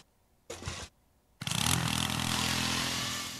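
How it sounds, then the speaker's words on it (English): A power drill in the Henry Stickmin prison-escape game starts up after a brief burst, then runs loud and steady with a whining motor drone that slowly eases off, with no voices. "Drill, here we go."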